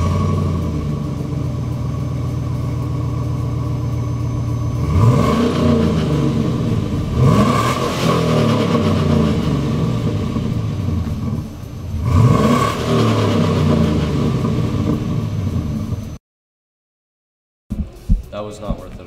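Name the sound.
car engine revving loudly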